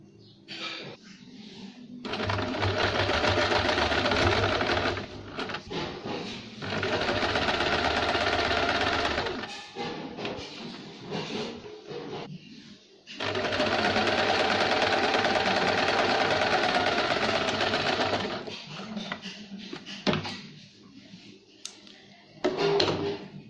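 A sewing machine stitches the front parts of a velvet blouse in long, loud, steady whirring runs, with pauses between bursts and the fabric being handled during the gaps.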